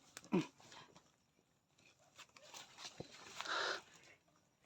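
A dog barks faintly in the distance a few times, with quiet rustling and outdoor background noise in between.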